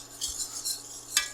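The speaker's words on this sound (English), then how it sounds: "we're going to get started by adding our flour to our oil" Flour stirred into oil for a gumbo roux in a pot: a few soft scraping strokes of a utensil, close and fairly quiet, in irregular bursts.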